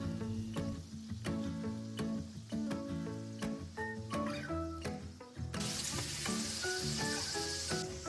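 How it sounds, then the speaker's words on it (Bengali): Potatoes frying golden in oil for chicken curry hiss steadily beneath background music, and the sizzle swells into a louder, brighter rush during the last few seconds. "আলু এবার সোনালি রং ভাজা হয়ে গেছে"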